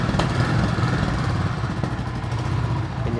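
A Royal Enfield 350cc single-cylinder motorcycle idles close by with a steady thumping exhaust note and slight throttle variation, heard alone without talk.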